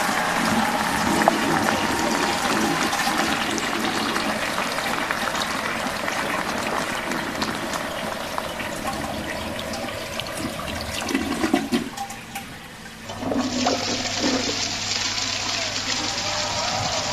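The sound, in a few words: toilet flush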